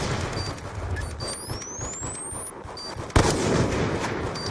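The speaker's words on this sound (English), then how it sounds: "They're cannons." A single loud cannon boom strikes late in a Call of Duty: Black Ops 2 map-pack match, standing out sharply over quieter game ambience and rising whistling tones.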